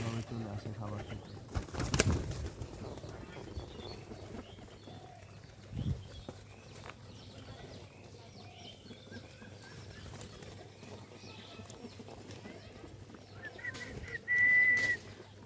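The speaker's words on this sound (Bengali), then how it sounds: "দেখেন খাবারের দেওয়ার সাথে সাথে কবুতরগুলো কীভাবে চলে আসে খাবার খেতে।" Pigeons flock in to eat scattered food, giving soft rustling, fluttering and pecking close by, with a few louder flaps and thumps and a short clear chirp near the end, all fairly quiet.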